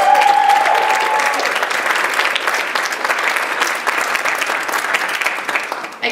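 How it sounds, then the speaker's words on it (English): Sustained applause from a large audience at a National Honor Society ceremony fills the space, dense and loud, slowly thinning toward the end. "Let's give them all a round of applause."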